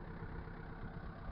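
A farm tractor engine runs at about 1500 RPM while spreading fertilizer over a small hay field, giving a steady, continuous low rumble with no breaks and no talk.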